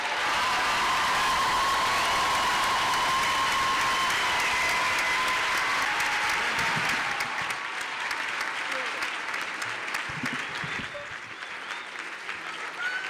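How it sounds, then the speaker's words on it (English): Broad audience applause for bachelor's degree graduates at a commencement ceremony, a long steady roar of clapping that slowly thins and quiets toward the end. "Please honor all of the bachelor's degree awardees with your applause."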